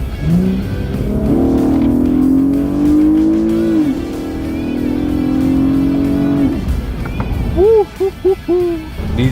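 Infiniti G37 sedan with a Motordyne catback exhaust holds a loud, close engine drone, drops through the gears with a rev-matched blip, pulls again, then fires a few short throttle blips near the end.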